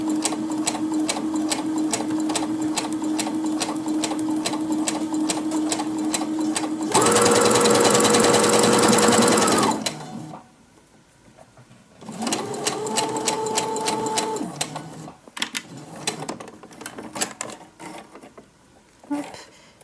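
A sewing machine runs steadily, stitching along the shoulder seam of a T-shirt, then stops. After a short pause it starts again in a shorter burst, followed by faint handling noises.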